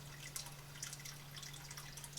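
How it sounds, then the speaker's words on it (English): Water draining out of a home aquarium during a gravel-to-sand substrate change, a faint steady trickle with soft irregular drips over a low hum. "I'm draining the water."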